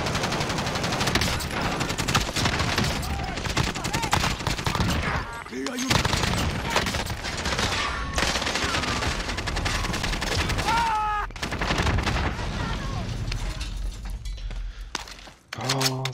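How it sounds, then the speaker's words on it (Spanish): Gunfire from the Call of Duty Warzone battle royale game, Rebirth map, crackling in dense, repeated bursts for most of the span, with short pauses and a brief lull near the end, loud and close in the mix. "¡Me están disparando!"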